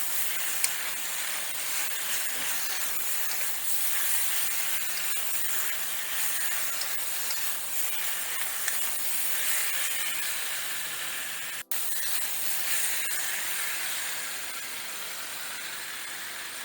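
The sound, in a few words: peppers and beef sizzling in hot wok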